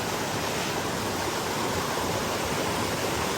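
A waterfall rushes in a steady, broadband roar, loud and unbroken throughout with no voices.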